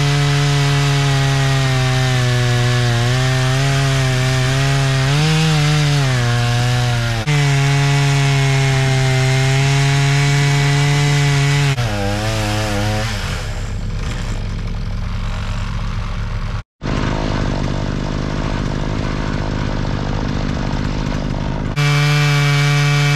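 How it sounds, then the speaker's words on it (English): Chainsaw with a dull chain cutting through the base of a giant juniper tree, its engine droning loud and steady with pitch shifts as it bogs in the wood, then revving rougher with a brief cutout before resuming. "This chainsaw is so freaking dull."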